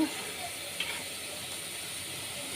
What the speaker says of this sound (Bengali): বলক এসে করছে।